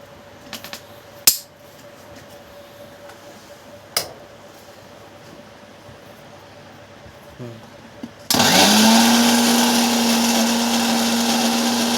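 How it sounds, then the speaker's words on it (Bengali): A blender grinds raw mango with sugar and chili, kicking in loudly after several quiet seconds broken by a few clicks and knocks, then holding a steady, close, high-pitched motor whir to the end. "আমগুলো দেওয়া হয়েছে এখন ব্লেন্ডারের মধ্যে, কিন্তু আমগুলো দেওয়া হয়েছে, এর মধ্যে চিনি আর মরিচ দেওয়া হয়েছে।"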